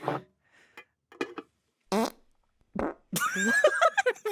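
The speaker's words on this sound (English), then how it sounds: "Hard to say, but I'm going to go with true fart." Several short bursts of flatulence-like noise, with brief gaps between them, end in a long, loud, sputtering fart. A whoopee cushion may be the source rather than a real one. No one speaks.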